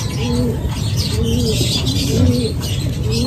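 Racing pigeons coo repeatedly in a loft at Los Baños, Laguna, soft rolling calls recurring every second or so over a steady background hum, with no talking.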